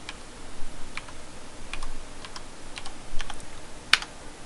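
Someone types a password on a computer keyboard at the Ubuntu login screen, with scattered light clicking keystrokes in a steady but uneven rhythm and one sharper tap near the end.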